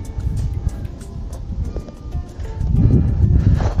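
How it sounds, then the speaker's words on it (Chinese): Strong wind on a snowy mountain pass near Dawang town in Zuogong County, Tibet, rumbles and buffets the microphone in loud, uneven gusts that swell toward the end. "这里风声很大呀。"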